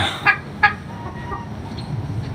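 A couple of short clucks from hens in a pen close by, over a low, steady background hum.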